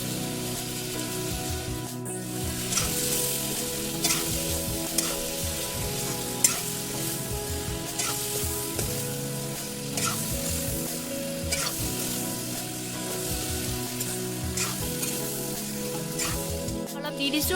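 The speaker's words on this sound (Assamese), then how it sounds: "আকৌ লৰাই লোৱা হৈছে মাংসখিনি ধুনীয়াকৈ।" Duck meat fries in a pan and is stirred, giving a loud, dense, continuous sizzle with periodic scraping strokes. Background music with tonal notes plays throughout, and no one speaks.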